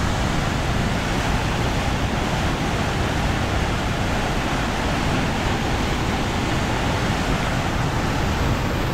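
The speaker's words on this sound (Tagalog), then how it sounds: "Lakas ng tubig oh." Strong, rushing water of the Marikina River in the Philippines during a typhoon, a dense, loud and continuous roar that holds steady throughout with no voices.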